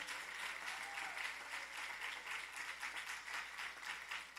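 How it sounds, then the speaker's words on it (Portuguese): A church congregation applauding during a harvest festival service, a full, continuous roar of many people clapping, fairly distant and evenly sustained from start to finish without speech. "Aplauda o Senhor pela vida dela."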